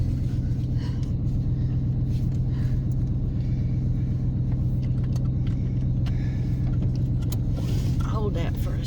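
A pickup truck engine idles to warm up on a cold day, a steady low rumble close by with people talking over it throughout.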